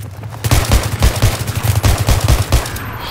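Repeated shots from an SVD sniper rifle in a video game ring out loud and close, a dense run of sharp, punchy reports with a fairly quick, uneven rhythm.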